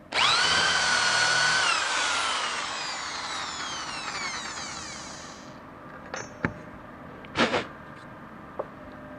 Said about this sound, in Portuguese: E agora eu vou fazer o mesmo furo com apoio. E com a mesma velocidade